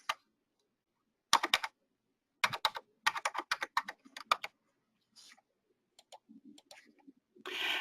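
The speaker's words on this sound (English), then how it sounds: "we're just going to move through the fields, tabbing with our keyboard" Computer keyboard keys clatter in irregular bursts of quick taps and single clicks while moving through form fields during data entry, close and quiet with pauses between runs.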